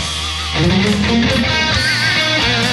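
A loud electric guitar lead phrase from a solo, with sustained, bending notes ringing over a full backing, delay echoes trailing behind each note.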